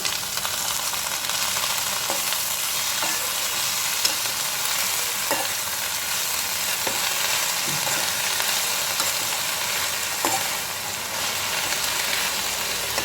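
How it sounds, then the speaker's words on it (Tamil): Curry leaf chutney mixture sautéing with salt in a pan, giving a steady, close hiss of frying throughout with occasional soft stirring scrapes and no speech. "கருவேப்பிலை சட்னிக்கு உப்பு சேர்த்து நல்லா சுருளை வதக்கிக்கலாம்"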